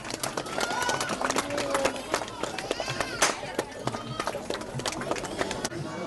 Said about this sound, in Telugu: అందరూ చప్పట్లు కొట్టి ప్రభు నామాన్ని కనపరుద్దాం.